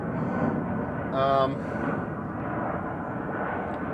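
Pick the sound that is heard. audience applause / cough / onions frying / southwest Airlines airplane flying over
southwest Airlines airplane flying over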